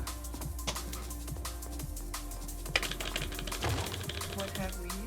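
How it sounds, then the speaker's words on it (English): Loud computer keyboard typing during a gaming speedrun stream, with quick irregular clicks and clacks of keys close by, over a steady low hum and faint background game sound. "Sorry if you hear the keyboard clickety-clacking."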